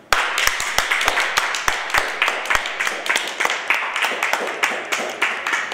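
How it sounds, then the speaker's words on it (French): Steady, sharp hand clapping from an audience, continuous and fairly loud with no one speaking over it. "Je voudrais que nous l'applaudissions pour commencer."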